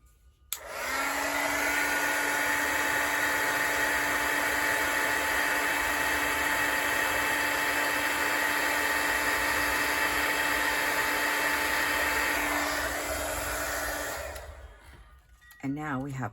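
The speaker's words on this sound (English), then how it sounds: "And I'm going to grab my heat gun again." A heat gun blows a steady, loud, even whoosh for about fourteen seconds while embossing a handmade paper card, then cuts off.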